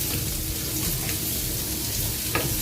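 Onions go into a frying pan while supper of soup and bricks is cooked, giving off a loud, steady, close sizzle and bubbling hiss with a faint clink near the end.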